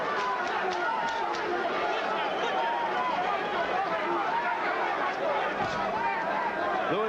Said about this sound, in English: And the chants of Lewis from the crowd